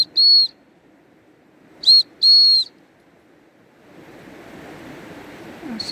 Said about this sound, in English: Let's test her with the whistle.